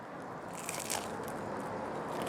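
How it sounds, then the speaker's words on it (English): A close, crisp crunch of someone biting into a freshly toasted, buttery ham and cheese toastie with relish, a short burst of crackly bites with no talking. "That bread is nice and buttery and it's got a good crunch."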